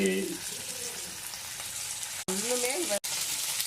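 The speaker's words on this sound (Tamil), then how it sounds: "உளுந்தம்பருப்பு வரமிளகா சின்ன வெங்காயம் கருவேப்பிலை இதெல்லாம் போட்டு நல்லா லைட் ஃப்ளேமில் இப்படி" Urad dal, dried red chilli, shallots and curry leaves frying over a low flame, a steady close sizzle with a voice talking over part of it.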